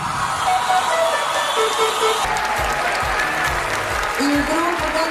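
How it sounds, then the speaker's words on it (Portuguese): Theater audience applauding a performing dance group, sustained dense clapping from a large crowd filling the hall throughout, with voices mixed in. "Mais aplausos!"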